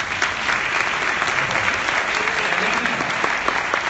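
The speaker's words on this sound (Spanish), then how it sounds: "muchas gracias, un aplauso" Steady, dense applause from a large crowd at a Hotmart event in Madrid, continuous clapping at an even loudness throughout with no pauses.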